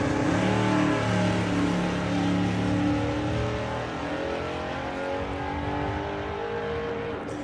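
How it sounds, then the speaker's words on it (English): Drag racing car engine at the NSRA Nostalgia Nationals 2024, a loud sustained roar with rising harmonic revving that gradually fades slightly as the car pulls away. "the engine is developing a huge amount of power"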